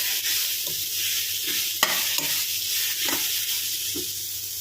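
Grated carrot for carrot halwa fries in a pan, giving a steady close-up sizzle and hiss broken by several scraping stirs of a spoon.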